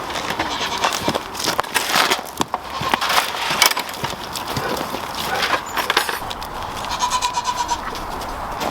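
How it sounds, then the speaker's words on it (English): Goats bleat and shuffle around in cold weather, with scattered knocks and hoof-like clatter in a busy farmyard; the animal calls come and go over steady background noise. "I do notice that the goats run right over and start to drink out of them"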